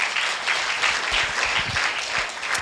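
A congregation at a church service gives a dense, steady round of applause that fills the room without breaks.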